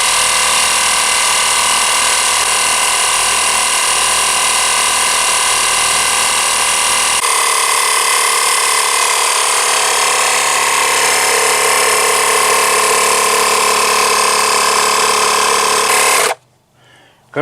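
A hand pump forces air into a tire for an all-terrain vehicle, a loud, steady mechanical whir and rasp that runs continuously for a long stretch before cutting off abruptly.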